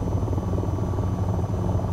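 AH-94 attack helicopter rotor in the VTOL VR flight game, a dense continuous low thrum and buzz with a steady throbbing pulse, loud and close, with no talk.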